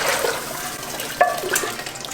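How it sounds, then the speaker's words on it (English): Thick gumbo gravy being poured from one pot into a larger pot, a close, wet, sloshing pour with a brief splash partway through; no talk. "So I'm going to pour it into my larger pot."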